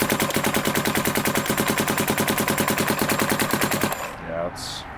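A Planet Eclipse Geo R5 paintball marker fires a rapid, evenly spaced stream of shots for about four seconds in cold winter weather, loud and close, then stops abruptly into quieter handling noise.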